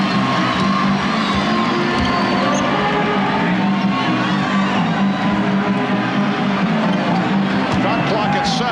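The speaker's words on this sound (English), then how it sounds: "And now the crowd trying to get into it." A packed basketball arena crowd at Game 4 of the 1995 NBA Finals, Houston Rockets against Orlando Magic, roars and cheers in a dense, steady wash of noise with a commentator talking over it throughout.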